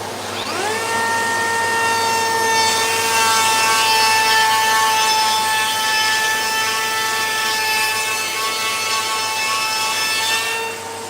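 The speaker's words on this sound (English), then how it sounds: "I've got my hose set. I've got my router ready by here. We'll fire this up and go for it." A wood router cutting along an edge with a dust extraction hose attached, a loud sustained high whine with strong harmonics that spins up at the start and runs steadily for about ten seconds before tailing off, no talking.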